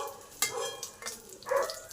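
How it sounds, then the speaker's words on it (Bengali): Cumin seeds frying in hot oil in a pan after three whole dried chillies have been fried, giving a soft, close sizzle with faint spatters and a couple of brief stirring scrapes. "কিছুটা জিরে, এটাও ভেজে নেবো"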